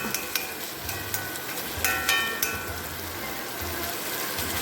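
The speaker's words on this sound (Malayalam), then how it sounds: "നല്ലവണ്ണം ഇളക്കൊണ്ടിരിക്കുക അടി പിടിക്കാതെ നല്ലവണ്ണം" Curry cooks in a pan while being stirred, giving a soft continuous sizzle broken by a few scraping clicks and taps of the spoon at moderate volume.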